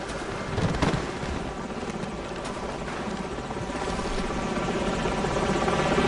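Enemy helicopters in Call of Duty 4: Modern Warfare throb as a dense, steady rotor roar that fills the scene continuously and grows slightly louder toward the end, with no talk over it.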